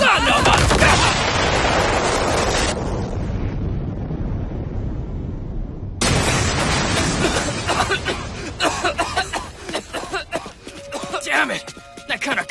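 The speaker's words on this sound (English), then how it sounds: "That kind of cover fire is just as dangerous to us friendlies!" An anime artillery barrage of cover fire tears through a battlefield with heavy booming explosions and rumbling blasts. Loud roaring bursts overlap, briefly drop away, then slam back in with crackling debris as voices shout over the chaos.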